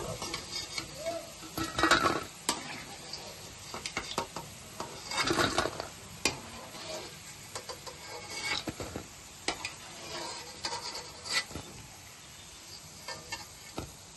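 Cauliflower pieces fry in a pan for gobi fried rice, a hissing sizzle punctuated by bursts of stirring and scraping against the pan, close by and without talk.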